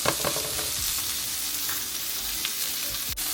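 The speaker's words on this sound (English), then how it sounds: "this is what we're going to fry up the garlic and onions in and all the spices" Chopped garlic and onions fry in butter in a pot for a shrimp boil, a steady close sizzle broken by scraping spoon strokes and occasional clacks against the pan, with no talking.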